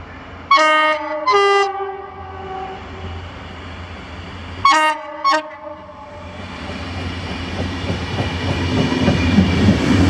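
Network Rail test train 329Z, hauled by locomotive DR98912, passing through Holytown station: two loud horn blasts near the start and two more midway, followed by the rising rumble and clatter of the train approaching and running past.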